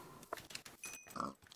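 Several short grunting oinks from a pig in a Minecraft-style survival video game, scattered across a brief moment among faint game sounds with no speech.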